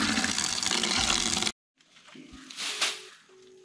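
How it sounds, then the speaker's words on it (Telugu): Water gushes loudly into a bucket for soaking broom-making stalks, a dense pour lasting about a second and a half. It cuts off abruptly and is followed by quieter handling and trickling sounds. "ఈ బకెట్లో కొన్ని వాటర్ పోసి నానబెట్టాలి మంచిగా."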